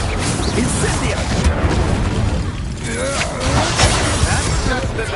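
Casting the Incendio fire spell in Hogwarts Legacy brings a loud, continuous roaring burst of flame with booming, crackling impacts, and a voice speaks over the din.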